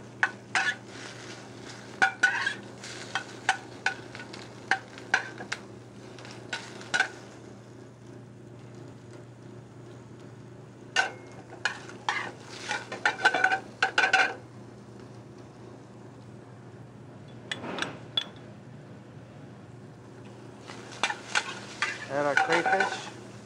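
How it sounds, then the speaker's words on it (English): Shrimp cooking in a pan give quick bursts of sizzle and utensil scraping separated by quieter gaps, with clinks of a spoon or spatula against the metal over a low steady hum. "Our shrimp takes slightly longer to cook, so we start them before the crayfish."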